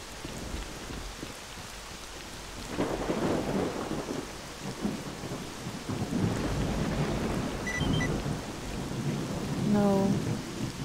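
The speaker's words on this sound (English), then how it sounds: "Oh, this thunder is really annoying." Thunder in a video game storm in S.T.A.L.K.E.R. Clear Sky: long rolling rumbles over steady rain, swelling at intervals with a louder crack near the end, no talking.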